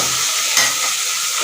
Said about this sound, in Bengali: আর তেলের মধ্যে কাঁচা লঙ্কাটা দিয়েছিলাম গন্ধ সেন্ট বেরোবার জন্য। এটা একটু ভাজবেন।